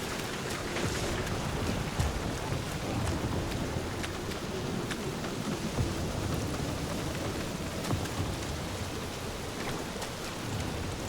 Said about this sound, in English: Well, at least the storm's not quite as bad as it was.